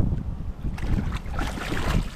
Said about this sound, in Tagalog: Tamang-tama yung mahangin.